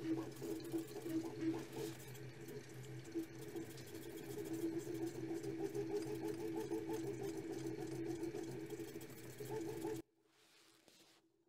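A 3D printer runs at very high speed under a Creality Sonic Pad, giving a dense, steady whirring buzz with rapid stepper chatter that continues loud and close, then cuts off abruptly near the end.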